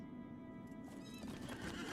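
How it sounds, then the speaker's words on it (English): A horse whinnies in Lord of the Rings Online at Thorin's Hall, a wavering neigh rising partway through over a dense bed of clip-clopping hooves and ambient game sound, with no talking. "here, we should be able to get on our horse"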